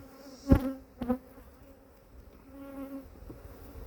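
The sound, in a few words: honey bees buzzing at an open beehive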